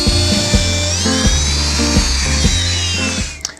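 A router fitted with a bearing-guided flush-trim bit cuts glued-on Formica laminate on a face plate, giving a loud, steady high-pitched whine with a pulsing, chattering rhythm under it as the cut continues.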